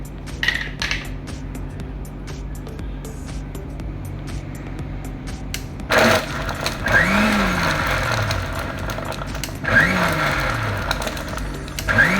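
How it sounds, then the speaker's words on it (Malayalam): A kitchen mixer grinder churns curd with ice cubes and water to make homemade butter. The motor whirs in short, pulsed bursts that start and stop, over a low, steady background hum. "കുറച്ച് ഐസ് ക്യൂബും വെള്ളവും ചേർത്ത് മിക്സിയിൽ ഇടവിട്ട് കറക്കിയെടുക്കാം."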